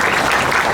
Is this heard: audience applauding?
yes